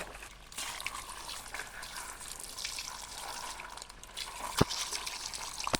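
Water poured from a container in a kitchen while preparing grill chicken, a faint soft trickle running steadily under low background noise with one brief sharp knock near the end.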